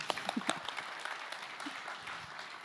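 Audience applause fills a conference hall after a speaker is called up, a steady wash of many hands clapping at moderate loudness with a few sharper claps standing out early on.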